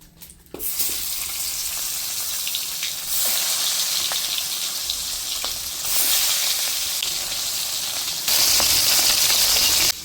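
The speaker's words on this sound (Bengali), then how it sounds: "মাছটা ভালো করে ভাজবেন। এখন দিয়ে দেব মাছগুলি।" Topshe fish frying in hot oil, a loud continuous sizzle and spatter that starts abruptly and swells in waves as more pieces hit the pan, close and dominant.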